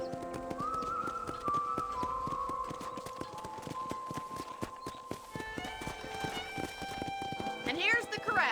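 Horses clip-clopping and whinnying at a ranch corral in the Red Dead Redemption video game, hooves steady and close under a long layer of game music, with a neigh rising near the end.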